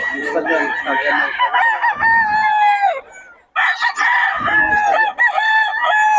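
A bullstag rooster in Bocaue crows twice close by, each long loud call ending in a falling drawl with a short pause between, with faint clucking underneath.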